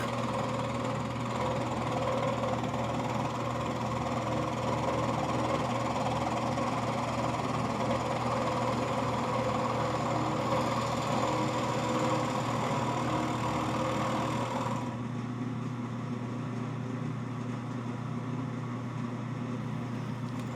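Electric motor of an old wood lathe running steadily in a workshop, a continuous even hum with no talk, its tone shifting slightly near the end.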